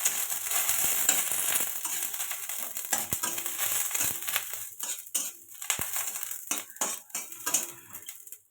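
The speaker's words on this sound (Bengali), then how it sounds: "তার জন্য লঙ্কাটা ভেজে নেব" Green chili frying in a pan for a potato mash with neem flowers: a crackling sizzle mixed with repeated scraping and clinking of a metal utensil against the pan, nearby with no talking.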